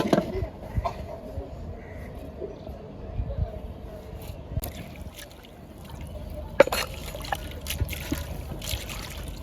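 Water trickles faintly and steadily as fresh coriander leaves are rinsed by hand for chicken momo, with soft splashes and handling noises in a quiet home kitchen.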